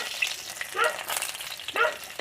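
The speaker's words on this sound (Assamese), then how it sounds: "এতিয়া মই ইয়াত পিয়াজ কেইডোখৰ দি দিছো" Onion pieces frying in hot oil in a wok over a flame, a continuous close sizzle that swells into a few louder crackling bursts as they are stirred.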